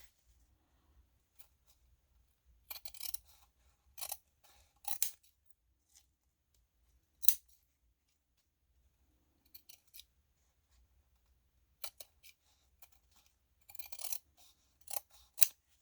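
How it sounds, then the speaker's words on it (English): Crisp scissor snips come in short clusters separated by quiet pauses, close by, cutting through fabric with no talking. "So we're going to trim that down so it matches up with the exterior piece."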